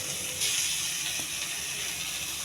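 Ginger garlic paste frying with onions in a pan: a steady broadband sizzle and hiss holds at close range with no pause, with a few faint clicks in the background and no talk over it.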